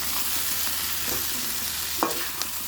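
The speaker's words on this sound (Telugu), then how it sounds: "ఇవన్నీ చామదుంపలు వేసేస్తున్నాను వేసుకొని కలుపుకోవాలా" Taro root pieces are dropped into a hot pan and stirred, a steady oil sizzle broken by a few sharp scrapes and clinks of the spoon, close and without talk.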